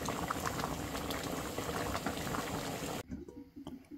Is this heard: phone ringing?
no